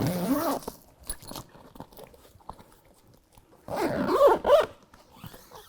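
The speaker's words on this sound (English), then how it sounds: "Now we're going to zip in our rear side windows." A zipper runs along a Jeep soft top's rear side window as the Rugged Ridge OEM replacement panel is zipped in, giving two loud bursts of close zipping separated by quieter handling rustles.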